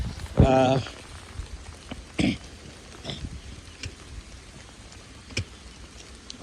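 Rain falls on Camp John Hay's Yellow Trail, a forest walking path, as a soft steady patter with scattered close drops tapping on nearby surfaces, and a brief voice near the start.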